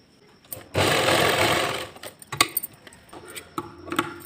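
Sewing machine stitching a salwar, a loud close whirring run of about a second followed by softer intermittent clicks and handling taps.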